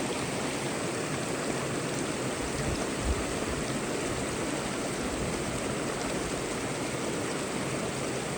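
Mountain creek flowing steadily nearby, a broad continuous rush and splash of water holding even in loudness throughout, with no voices over it.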